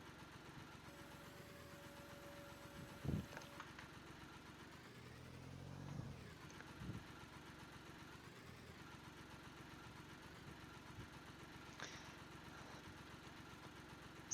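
A small Case International 235 tractor engine runs steadily while tilling, a low continuous diesel hum at moderate distance with a few faint knocks and clunks along the way.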